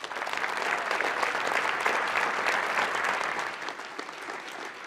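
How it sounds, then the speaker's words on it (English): An audience at the 2018 Legacy of HOPE special presentation for the Boys and Girls Clubs of South Puget Sound claps steadily. The applause is a dense, even roar that swells and then tapers slightly toward the end. "Can we give her one more round of applause?"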